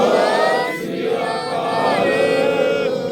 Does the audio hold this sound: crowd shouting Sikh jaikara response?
yes